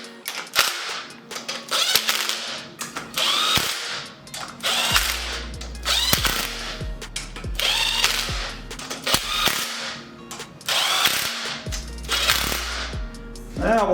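A ratchet tightening nuts on a turbocharger fitted to a Chevy Cruze, sounding as bursts of sharp rapid clicks repeated through the stretch, with brief metallic knocks in between.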